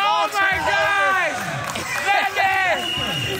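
Crowd at an indoor amateur league basketball game cheering a defensive play, a loud sustained roar and hubbub with sneaker squeaks and scattered claps, under excited commentary talk.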